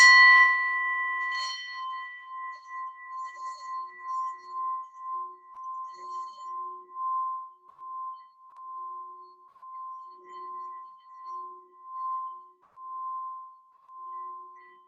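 A single strike high on a Tibetan singing bowl rings out with a bright metallic attack, then a pure high tone sustains and slowly pulses as it fades.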